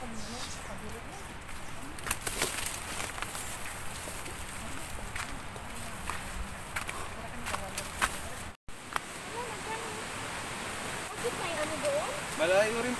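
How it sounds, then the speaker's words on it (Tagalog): A river flows just below a forest trail near Tibag Falls, giving a steady rushing water sound that runs under close footsteps and people talking. "Kung naririnig nyo po yung tunog ng tubig, kasi po sa baba lang po nitong nilalakaran natin ay yung mismong ilog."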